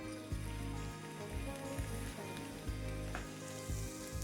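Crab meat sizzles in a pan with lightly browned shallots, a loud continuous frying hiss broken by soft stirring bumps and scrapes, no talking.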